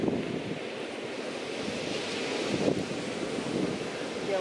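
Ocean surf rolls steadily onto a San Diego beach with wind buffeting the microphone, a continuous broadband wash that stays fairly even and close throughout, with no voices.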